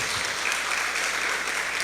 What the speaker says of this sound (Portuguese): desse uma salva de palmas ao Senhor. Aplauda ao Senhor.